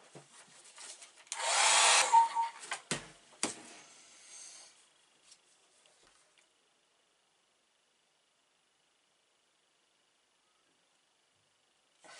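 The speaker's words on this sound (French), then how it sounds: "Donc là, on va utiliser le sèche-cheveux." A burst of loud, steady blowing from a hair dryer used on an Audi R8 LMS GT3 runs for about two seconds, followed by a few short bumps and rustles, then silence.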